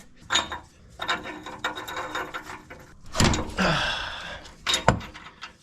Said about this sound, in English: Of course, the O2 sensor. Got my trusty O2 sensor socket.